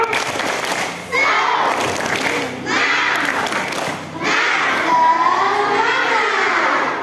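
A group of schoolchildren does a rhythmic cheer clap, cheering loudly in unison, with bursts of clapping and shouting in a lively, echoing crowd at a Ramadan school event.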